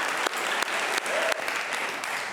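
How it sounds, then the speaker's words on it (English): Audience applause at a televised junior quiz competition finals, a dense steady clapping from a sizable crowd, filling the whole moment without speech. "Another round of applause for them."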